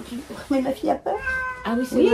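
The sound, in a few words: domestic cat meowing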